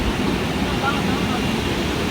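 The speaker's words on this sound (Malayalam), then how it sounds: "ഇതാണ് റെയിൻബോ വാട്ടർഫാള്" Rainbow Waterfall in Meghalaya, a broad, steady roar of falling water heard nearby, constant and fairly loud with no breaks.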